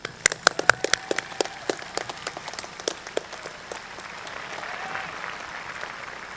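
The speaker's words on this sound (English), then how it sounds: "let's take a moment to give ourselves a big round of applause" Graduation audience applause at a high school ceremony: a few sharp distinct claps at first, then dense, steady clapping from a crowd that fills the hall, moderately distant.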